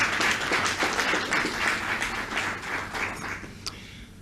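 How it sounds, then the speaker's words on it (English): Sustained audience applause for learners at the ceremony announcing the 2020 National Senior Certificate matric results, a steady crowd of many hands clapping that holds level and then thins out toward the end. "Please, once again, let's give our learners a round of applause."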